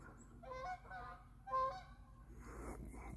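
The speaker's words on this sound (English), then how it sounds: "Two geese flying overhead." Two geese honking as they fly overhead outdoors, several distinct nasal honks in short bursts at moderate distance, clear against a quiet background.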